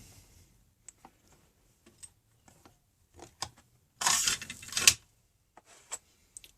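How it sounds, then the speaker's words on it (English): Brad nails are loaded into an 18 gauge air nailer: scattered small ticks and metallic clicks, then a louder rattling slide of the magazine and a final few light clicks, close and quiet. "let's load some brad nails"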